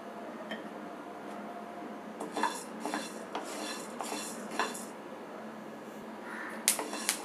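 Horse gram dry-roasting in a pan, with a utensil scraping and stirring it in a series of uneven rasping strokes that grow busier midway. A sharp clank comes near the end. Quiet and close, with no talk.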